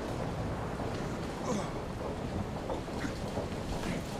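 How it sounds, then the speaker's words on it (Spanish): Storm and rain ambience in the video game Deadlight: a steady, dense wash of rain and wind noise fills the whole stretch, with faint rumbles underneath and no clear speech. "Damn storm. Maldita tormenta. Es que la lluvia se escucha."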